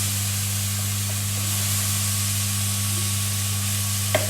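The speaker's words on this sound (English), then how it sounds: "So once your beef is sealed all around, you want a good sear on the beef." Beef for a stroganoff searing in a hot pan: a steady, even sizzle held over a low electrical hum, with a single brief clink near the end.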